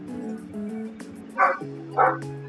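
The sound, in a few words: dog barking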